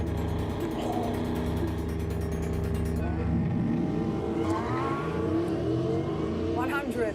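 Porsche V8 race car accelerating hard, a loud rising engine roar that builds and swells as it pulls away, with people talking over it.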